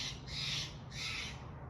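A bird caws and squawks outdoors in two harsh, drawn-out bursts over steady background noise, with no talking.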